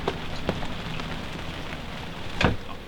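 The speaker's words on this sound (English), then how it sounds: "And it's now almost noon and it's still raining." Steady rain pattering on a surface, with a few louder drips and splashes standing out against the constant hiss.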